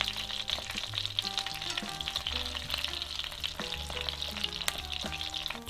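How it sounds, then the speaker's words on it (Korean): Frozen battered shrimp frying in a pan of oil, with a continuous close crackling sizzle and scattered pops throughout, and no talking. "이 정도로도 충분히 바삭하게 새우를 튀길 수 있었습니다"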